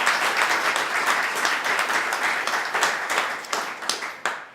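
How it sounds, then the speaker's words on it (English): A crowd claps for honorees at a sports hall of fame grand opening in Saginaw, a dense burst of applause that stays full, then thins into a few scattered louder claps as it dies away. "Could I get a round of applause for these men and women?"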